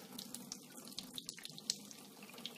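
Hot water trickles steadily into the scored groove of a glass bottle on a Kinkajou bottle cutter, a quiet, close splashing pour with small drips.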